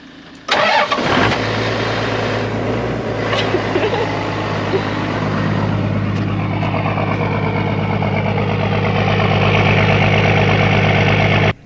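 A loud vehicle engine on an overland expedition rig in northern Baja California cranks, catches and then settles into a steady, rumbling idle that continues close by for several seconds.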